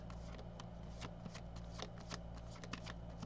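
Tarot cards being shuffled close by, a quick continuous patter of soft card slaps and riffles over a low steady hum, with no talking.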